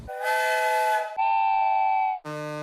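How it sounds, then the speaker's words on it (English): Three successive steam engine whistles from the Thomas CGI series, each a sustained tonal blast of about a second, differing in pitch, loud and alone. "Listen to their whistles."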